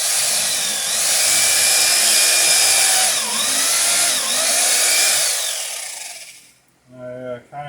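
A small cordless power drill drives fasteners through wooden boat strakes into the transom of a dory, a steady whining buzz running for about six seconds before cutting off, followed by a short burst of talk.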